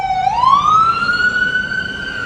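A siren rising in a single long wail, loud and close, with a clear steady tone.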